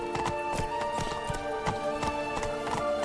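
Horse hooves clip-clop in a quick, regular trotting rhythm in The Witcher 3, a steady run of sharp hoofbeats at moderate distance with faint background game ambience.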